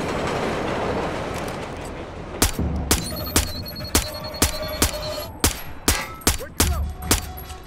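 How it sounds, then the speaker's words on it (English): Gunshots in the Splinter Cell video game ring out as a regular series of sharp, loud cracks about every half second, following a stretch of dense game noise. "so I'm gonna shoot him in the head when he's wearing a helmet"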